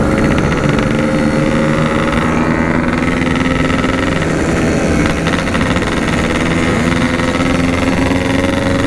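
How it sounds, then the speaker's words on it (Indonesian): Yamaha RX-King two-stroke motorcycles idle and rev in a group, making a loud, continuous, buzzing engine drone with steady harmonic tones that hold for the whole stretch, with no speech. "Motornya kenceng-kenceng banget"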